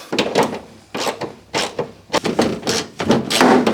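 Door of a Mk1 Caddy truck is opened and shut over and over, a string of close, solid thunks and clicks in an irregular rhythm.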